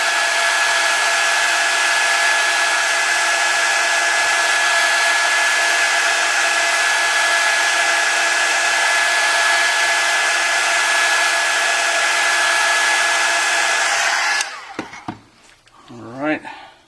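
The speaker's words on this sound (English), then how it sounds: "I'm going to go ahead and loosen the glue by adding heat." Heat gun blowing hot air onto a cracked iPad Air screen to soften the adhesive, a loud steady whirring hiss that runs unbroken for about fourteen seconds, then cuts off into handling noises.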